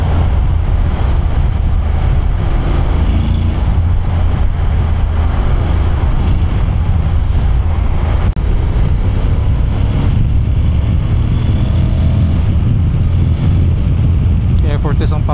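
A 2024 Honda X-ADV scooter-style motorcycle with its stock exhaust, heard while riding as a steady low engine drone under heavy wind rush, smooth and unstrained throughout.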